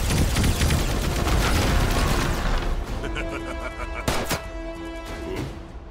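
Rapid turret gunfire in the animated series Invincible: dense, loud bursts of shots that thin out into a few sharp reports and a ringing tail.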